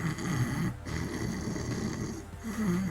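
A person imitates a walrus with a loud, sustained snoring sound, rough, rumbling breaths filling the whole stretch with a brief pause near the start, close to the microphone.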